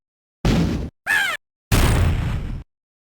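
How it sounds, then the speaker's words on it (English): Sega Genesis game audio from the opening of Aladdin: three separate harsh, noisy bursts of digital gunfire, each cut off sharply by dead silence, the middle one shorter with a warbling, squeaky edge, loud and with no talking. "live gunfire in the beginning of any game is always good news for anyone, especially on the Sega Genesis"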